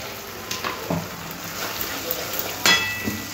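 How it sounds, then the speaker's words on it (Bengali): Masala paste of ginger, garlic, cashew and green chilli frying for chicken maharani, with a soft, uneven sizzle and a few scraping and clattering stirs, one sharper knock near the end, close by. "ভালো করে মশলাটা কষিয়ে নিতে হবে"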